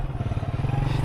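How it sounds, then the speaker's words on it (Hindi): A motorcycle engine approaching on a hilly village road comes through as a short, rhythmic low putter with a pulsing mechanical clatter, moderately loud and steady. "एक बाइक की आवाज़ आ रही है"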